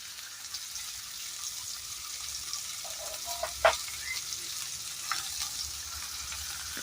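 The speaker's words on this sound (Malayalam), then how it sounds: "അത് കൂടെ നമ്മൾ ചെറിയ ഉള്ളിയോടെ വഴറ്റുക" Crushed ginger, garlic and shallots sauté in a pan with a faint, low sizzle in the background, broken by one sharp utensil clack and a few light stirring knocks.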